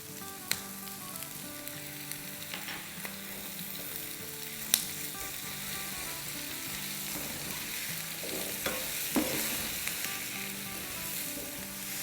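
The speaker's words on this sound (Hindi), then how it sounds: "इसको सॉटे करेंगे थोड़ा और साथ ही इसमें हम डाल देंगे 2 टीस्पून लहसुन का पेस्ट" Garlic paste sautéing in a pan over medium-high flame for chicken soup with potatoes: a steady, close sizzle and crackle with occasional spatula stirs and clinks, no talking.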